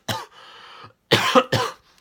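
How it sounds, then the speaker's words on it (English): Harsh coughing fit from a man: a sharp cough, a wheezy exhale, then two more heavy coughs in quick succession, close and loud. "please forgive me for having the coughing fits tonight"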